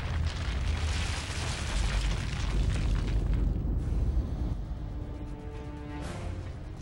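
A deep seismic rumble builds into a roaring explosion in Gears of War 2, a heavy, loud, sustained blast that slowly fades into a lower rumble with faint debris.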